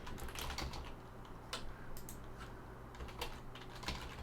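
Typing on a computer keyboard, a run of quick, irregular key clicks with a few sharper taps, close and fairly quiet over a low steady background hum.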